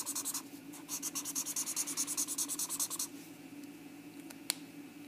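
A pencil draws rectangle lines to model fractions on paper, a quick run of rhythmic scratchy strokes for about three seconds, then quiet with one short tap, close up and without talk.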